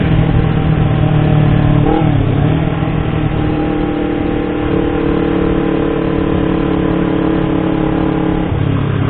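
A car engine hums steadily in fifth gear while driving through quiet Jakarta streets, a loud, even drone with a brief dip and shift in pitch near the start and again at the end.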